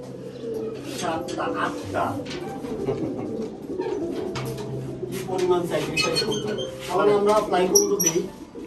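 Caged pigeons coo in soft, repeated throaty calls with some chirps mixed in, at a loft kept for tournament flying pigeons, while someone talks over the birds throughout.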